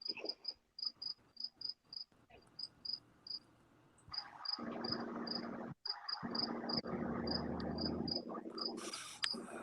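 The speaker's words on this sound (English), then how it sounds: "Oh, I'll probably never find the one cricket." Crickets chirping in a backyard, sharp repeated chirps in a steady rhythm over a dense insect hum that swells louder partway through, with no voices.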